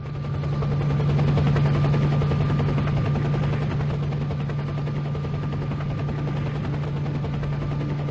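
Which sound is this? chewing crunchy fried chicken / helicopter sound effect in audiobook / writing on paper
helicopter sound effect in audiobook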